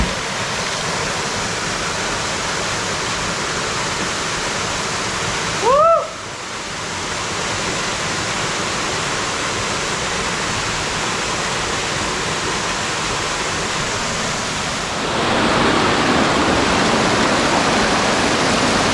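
Steady broadband rush of a waterfall in the Balandra forest, continuous and fairly close, with a brief sharp chirp-like sound near the middle and the roar growing slightly fuller toward the end.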